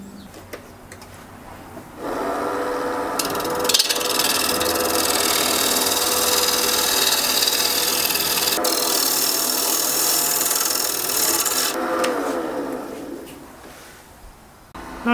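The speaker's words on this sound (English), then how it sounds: "I put a new sharpen on my bowl gouge here, and that's working much better" Wood lathe turning an apple wood bowl base with a freshly sharpened bowl gouge, a steady loud scraping and hissing cut that runs for about ten seconds, starting and fading at either end, with no talk.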